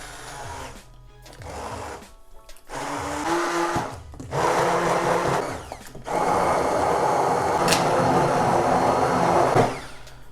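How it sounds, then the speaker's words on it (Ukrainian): A blender whirs loudly in bursts, stopping and restarting several times, its motor pitch shifting as it purees cooked chicken liver into a thick, creamy pâté. "Беремо блендер та обережно перебиваємо."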